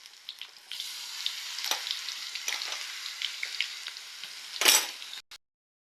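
Crushed ginger and garlic sizzle steadily in a hot frying pan, a continuous crackling hiss with a few stirring scrapes and a louder burst near the end before it cuts off.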